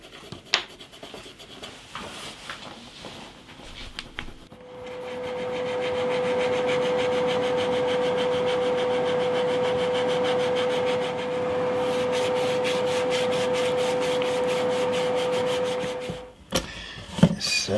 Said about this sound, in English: I can just take them off with a bit of sandpaper just to see if I can get a better fit.